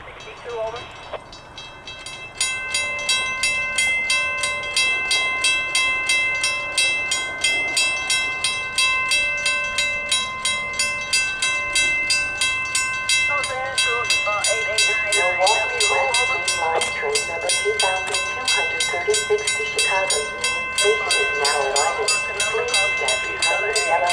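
A Metra commuter train, unit 2236, passes through Schaumburg in January along the CPKC Elgin Sub, heard as a steady, loud rumble of rail cars with rhythmic clatter and tonal horn or whistle notes throughout.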